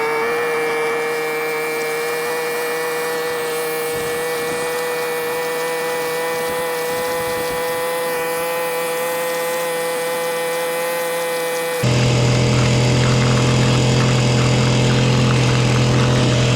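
A gold prospecting vacuum unit runs with a steady engine drone and strong tonal whine, then revs up sharply near the end to a louder, rougher roar; no talking.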